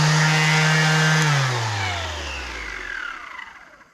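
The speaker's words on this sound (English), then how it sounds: "this guy's actually just a pretty good dual action sander. It is a 2648." A Milwaukee 2648 dual action sander, adjustable-speed with a wide orbit, used in shaping bodywork on a 1969 Charger, whines loudly and close, then spins down, its pitch falling steadily until it fades out.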